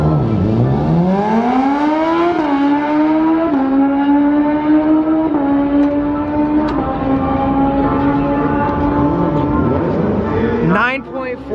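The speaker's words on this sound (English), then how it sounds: "They got a girl on a bike right now that's about to run." A motorcycle makes a drag race run, its engine wailing loud and close as it climbs in pitch through several quick gear shifts, then cuts off near the end.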